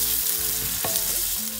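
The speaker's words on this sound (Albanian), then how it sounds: "Hedhim qepën dhe skuqim derisa të marrin ngjyrën e bukur" Onions frying in a pan for a quick festive appetizer, giving a loud, steady, close sizzle with a light stirring scrape partway through and no voices.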